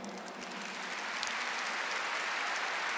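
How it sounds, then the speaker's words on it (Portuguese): A church congregation applauds in memory of its late founder, Father Jonas. The clapping is a continuous, even, crowd-wide wash, moderately faint and steady throughout, with no voices over it. "Vamos aplaudir."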